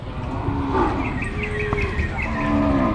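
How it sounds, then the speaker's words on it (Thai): A water buffalo lows at a Thai cattle and buffalo market, with a drawn-out tonal call over the steady noise of the crowd and other livestock. "ฝั่งนี้ก็จะเป็นควายนะครับผม"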